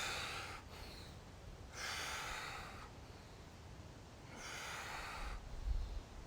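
Heavy rhythmic breathing during a core workout hold: three long loud exhales and inhales in slow succession, close to the mic, with no words spoken.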